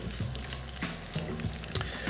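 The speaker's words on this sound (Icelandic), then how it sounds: "Og svo má bara byrja að skella laukinum á pönnuna" Onion sizzling in butter in a frying pan, a close steady crackle with irregular spits and pops, heard alone without talk.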